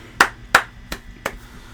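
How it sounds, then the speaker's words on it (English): Four sharp, separate hand claps spaced about a third of a second apart and fading slightly, applause for a NASCAR Sprint Cup championship-winning driver, heard close and with nothing else around them. "round of applause to you guys, your driver."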